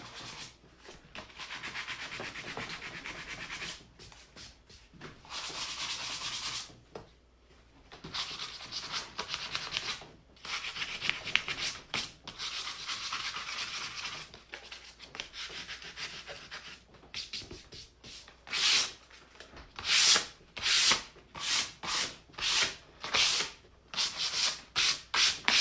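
Steady abrasive sanding rubs across painted wood, long continuous strokes at first, then quick repeated back-and-forth passes toward the end, close and fairly loud.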